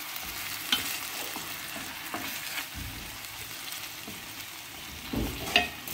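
Kefta meatballs with onion sizzle in a pan for a tajine, a steady close frying hiss broken by occasional stirring clatter and scrapes, with no voices.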